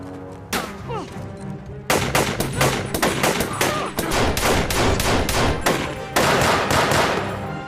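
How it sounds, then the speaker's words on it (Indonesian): Heavy gunfire exchange in an action film between a sniper team and terrorist forces, rapid machine-gun bursts and single shots in dense, loud, continuous volleys with brief pauses. "baku tembak antar mereka pun tidak bisa lagi terelakkan"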